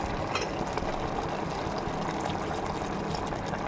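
Water pours into a budamakaya chicken gravy in a pressure cooker, a steady dense rushing splash held at even loudness throughout, with no talk.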